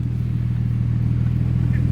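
A Nissan Skyline assembled from spare parts idles with a deep, steady low rumble and even pulsing, loud and close with no revving.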